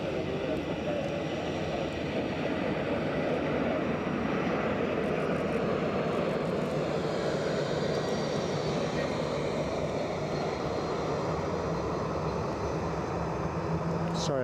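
An Air Baltic airliner jet passes with a steady, broad engine roar that holds at moderate loudness for the whole span, with no talk over it.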